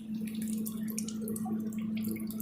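Pure water from a maple sap reverse osmosis machine pours steadily into a bucket, a continuous close splashing trickle over a steady low machine hum.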